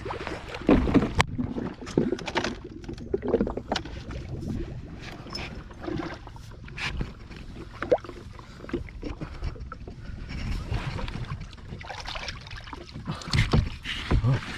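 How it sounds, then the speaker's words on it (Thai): A small homemade boat built from a ladder and a cement mixing tub is paddled on water, with repeated uneven splashes and strokes, some close and sharp, under occasional voices. "เอาอันนี้ละไปพายซะก่อน"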